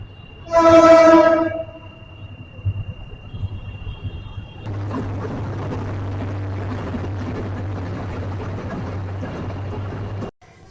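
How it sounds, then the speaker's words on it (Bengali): At a railway level crossing in a cantonment area, a train gives a loud horn blast, then its wagons rumble steadily past at close range for several seconds before the sound cuts off. "ট্রেন আসতেছে, ওয়েট করি।"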